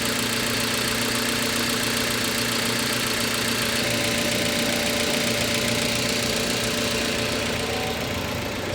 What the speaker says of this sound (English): I will measure how many decibels this engine offers when it runs like this.